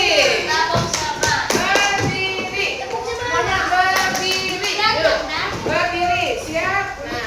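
A class of children, standing, claps out a rhythmic spirit chant together, sharp hand claps interleaved with sung and shouted syllables, lively and close throughout.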